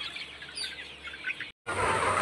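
Chickens clucking and calling in a poultry farm shed, a steady busy chorus of hens, then a brief drop-out followed by louder, closer clucking.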